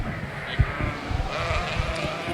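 Dorset yearling ewes in an indoor show ring let out a brief bleat amid shuffling and low crowd murmur, with faint talking in the background.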